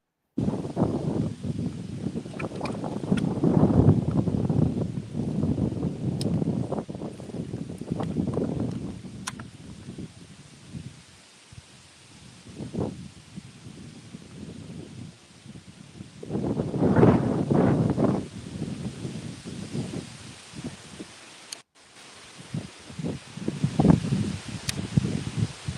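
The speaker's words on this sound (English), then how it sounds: "this wind is rocking" Strong wind buffets outdoors on open water during a fishing tournament, a broad rushing roar that swells and gusts in waves with brief lulls, close and loud throughout.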